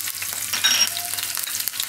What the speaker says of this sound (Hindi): ये तेल अपना गर्म हो गया है तो पहले हम इसमें हरी मिर्च डाल देंगे